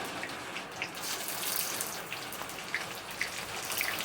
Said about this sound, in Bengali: গোটা গরম মশলা তেজপাতা জিরে আর লঙ্কা সব ফোড়ন দিয়ে দিলাম